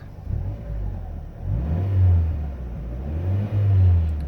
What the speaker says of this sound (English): Car revs real nicely.